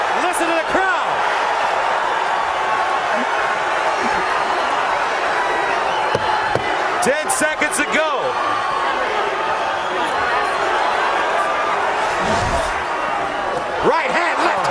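Boxing arena crowd at a Rios versus Antillon fight, a continuous loud roar of spectators with scattered shouts and whoops, a commentator talking over it and a sharp bell-like hit near the end.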